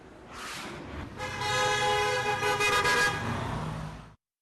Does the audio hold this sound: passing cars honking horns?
yes